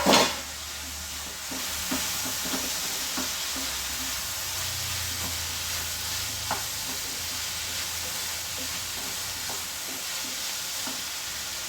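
Bitter gourd sautés in a pan for a Kerala-style theeyal, giving a steady, moderate sizzle with occasional scrapes of stirring. The sound runs continuously with no talking.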